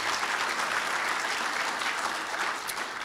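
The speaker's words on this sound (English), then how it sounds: "Let's give them a round of applause." A theater audience at a city chamber event gives steady, dense applause, continuous and moderately distant, without talk over it.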